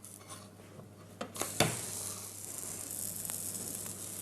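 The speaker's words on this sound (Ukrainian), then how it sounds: "Обережно млинець перегортаємо." Banana pancake sizzling in a hot pan with a steady hiss throughout, a couple of sharp clinks or scrapes near the middle as it is flipped, no voices.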